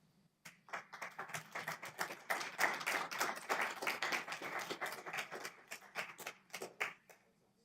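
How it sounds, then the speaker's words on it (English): A small group claps for several seconds at a county commissioners meeting, sharp uneven hand claps building and then thinning out to a few final claps. "So big round of applause for Bill."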